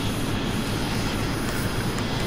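Steady, loud engine roar of an F-22 Raptor jet in a flight video game, a continuous broadband rush with no talk over it.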